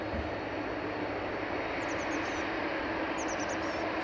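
A Swift Airbus A321neo arriving from Zurich at Dublin Airport makes a constant, broad jet roar that fills the whole stretch at an even level, with faint bird chirps above it.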